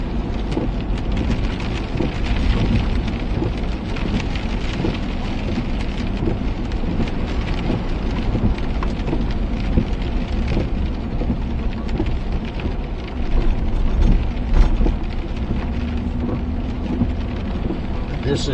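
Steady rain falling outdoors near a mountain ski area in Georgia, a dense continuous hiss and patter of drops that holds for the whole stretch, loud and close, with a brief swell partway through.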